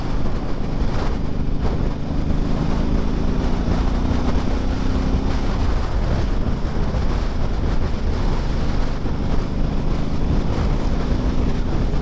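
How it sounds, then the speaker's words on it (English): Steady, loud wind buffeting the microphone on a hilltop ride, with a constant low rumble and gusty roar and no talking. "a bit windy today though, up on the top"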